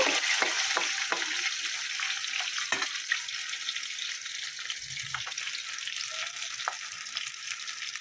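Crispy brinjal slices fry in hot oil in a pan, giving a steady bright sizzle with occasional soft stirring scrapes and taps, close and continuous with no talk.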